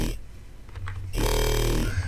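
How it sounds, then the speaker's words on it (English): Growly bass synth patch built in Serum in a Barely Alive style, a loud gritty mid-heavy growl sliding through vowel-like formant sweeps, then a deep sustained buzzing bass note with rich harmonics. "today I'm going to show you how you can make a cool, really growly bass just like Barely Alive"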